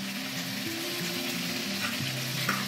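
A pan of Bengali spicy duck egg curry masala sizzles and hisses steadily as a little water is added and the mixture is stirred, with a continuous close frying crackle and occasional spoon scrapes.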